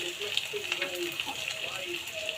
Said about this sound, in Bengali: পেঁয়াজটা ভালো করে ভাজতে হবে।